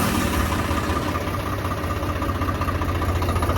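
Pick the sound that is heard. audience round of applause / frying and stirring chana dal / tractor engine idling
tractor engine idling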